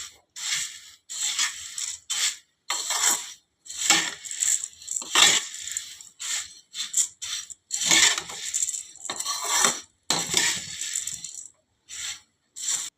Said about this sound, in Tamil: எல்லாம் நல்லா மிக்ஸ் ஆகுற மாதிரி நல்லா கிண்டணும்.